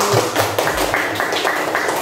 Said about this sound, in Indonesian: 1, 2, 3, 4, tepuk tangan yang nilainya 100